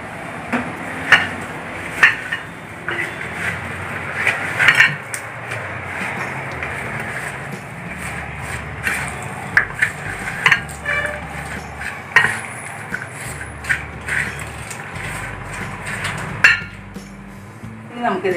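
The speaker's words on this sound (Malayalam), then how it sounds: "എന്നിട്ട് നമുക്ക് കുറച്ച് വെളിച്ചെണ്ണ ഒഴിച്ചിട്ട് നന്നായി ഒന്ന് കൂട്ടി തിരിഞ്ഞു കൊടുക്കാം" A fish curry is stirred in a pot after coconut oil goes in, producing intermittent metallic clinks and scrapes of the spoon against the vessel, moderately close, with background room noise and brief talk.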